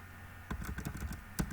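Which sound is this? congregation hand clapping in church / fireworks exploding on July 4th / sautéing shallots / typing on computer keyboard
typing on computer keyboard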